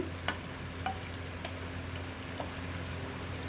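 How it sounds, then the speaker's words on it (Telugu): Meal maker pakodi with green chillies frying in hot oil, a steady soft sizzle throughout with a few brief clicks of stirring, no one talking. "చూడండి పచ్చిమిర్చి కూడా కొద్దిగా మనకి ఫ్రై అవుతుంది"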